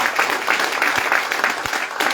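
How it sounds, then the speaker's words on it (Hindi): Applause from an audience at a business development programme in Kolkata greets a branch manager, a dense, steady patter of many hands clapping close by with no voices over it. "प्रभात को एक बार ताली हो जाए"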